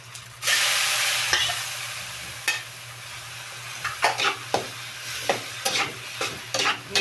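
Tomatoes sizzle steadily in a hot pan, with a burst of frying as they go in and then repeated clinks and scrapes of a utensil stirring against the pan over a constant low hum.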